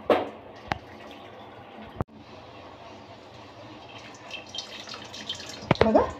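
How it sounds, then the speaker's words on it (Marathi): Cooking water from soft, fully boiled chana dal drains off in a faint, thin trickle, with a few sharp clinks and a louder splashing patter near the end. "कटाच्या आमटीसाठी पाणी काढून घेऊया डाळीतलं"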